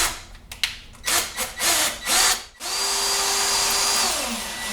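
A power drill drives a Tapcon screw through wood into concrete block with construction adhesive behind: several short, close bursts of whirring, then one longer steady whine that stops abruptly.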